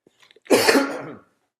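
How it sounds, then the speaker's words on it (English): A single harsh, explosive cough with a rough throat-clearing rasp, close and brief, preceded by a few faint clicks. "I'm getting over this cough and I have to clear my throat a little bit."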